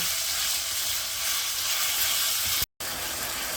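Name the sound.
chicken frying in a pan on high flame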